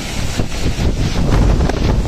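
Strong wind roars steadily across a cold, stormy Black Sea beach, buffeting the microphone with a constant broadband rush and no pauses.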